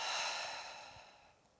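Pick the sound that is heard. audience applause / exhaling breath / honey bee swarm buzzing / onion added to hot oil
exhaling breath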